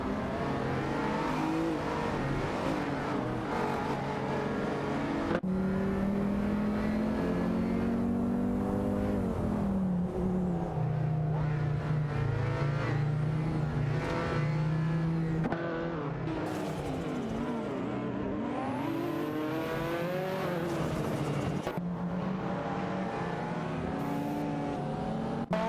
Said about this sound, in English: We're revving up the action with some AI race cars today